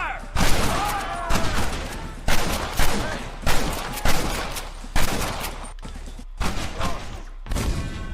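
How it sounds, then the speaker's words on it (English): Rapid, heavy gunfire in the video game Red Dead Redemption during a gate assault, with loud repeated bursts and booming shots, dense and continuous, with shouting voices partly mixed in. "Hold them off! We need time to set the explosives! Are they? Oh, shit. We lost one! Keep up the fire!"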